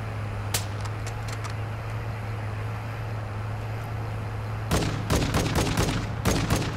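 Gunfire in the video game Call of Duty: Warzone 2.0 starts with a few scattered shots over a steady low hum, then breaks into rapid, loud bursts near the end.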